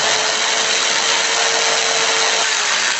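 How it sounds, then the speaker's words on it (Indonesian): An electric drill spins continuously at full speed, loud and close, giving a steady, even whine with no pauses or changes in pitch. "lalu saya hidupkan bornya"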